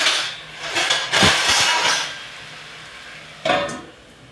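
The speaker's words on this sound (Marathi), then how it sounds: "आता झाकण ठेवून आपल्याला एक उकळी द्यायची." A lid knocks onto a metal cooking pot holding onion and tomato besan pithle: a sharp clatter with a short rattle near 1 second, and a second clink about 2.5 seconds later, close by with no talk.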